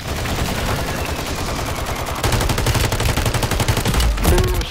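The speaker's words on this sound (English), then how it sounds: "Damn, airstrike on me." Gunfire in a Call of Duty match sounds as rapid automatic bursts, and an airstrike adds heavy booming explosions, with the fire growing denser and louder toward the end.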